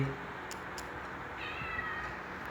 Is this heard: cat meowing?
yes